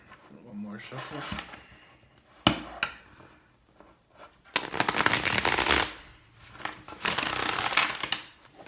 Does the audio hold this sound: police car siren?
no